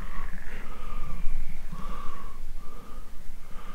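Frogs croak together at night under a full moon beside a campsite, their rhythmic calls overlapping in a steady, fairly close chorus with no talk.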